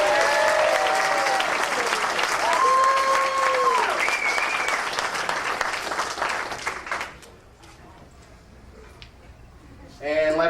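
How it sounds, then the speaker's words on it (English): An audience applauds the bride and groom at a wedding reception, sustained loud clapping with cheering whistles that fades out after about seven seconds, then a voice briefly speaks. "How about a round of applause for these kids?"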